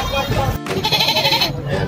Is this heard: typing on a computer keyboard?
no